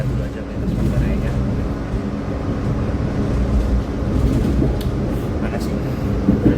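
Rumbling ride inside an Indonesian passenger train, the GMR–YK extra service, passing through Manggarai station, with a steady low rolling drone and faint clatter throughout, while people talk quietly in the carriage.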